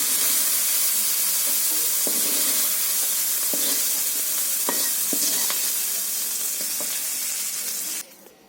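Small shrimp and ivy gourd frying and being stirred in a pan, a steady broadband sizzle with scattered spatula scrapes and taps, close and loud, cutting off sharply near the end.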